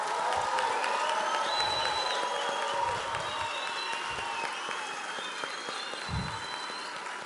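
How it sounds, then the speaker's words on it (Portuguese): A conference crowd at CPAC Brasil 2019 breaks into loud applause mixed with cheers and whoops, sustained clapping throughout with occasional shouts rising above it. "Eu gostaria de uma salva de palmas à braveza da ministra."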